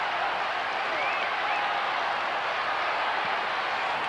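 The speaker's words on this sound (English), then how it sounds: "The crowd has come to life." Crowd cheering and applauding at a 1991 Australian football match between Melbourne and St Kilda, a steady broad roar of a large stadium audience sustained throughout without pause.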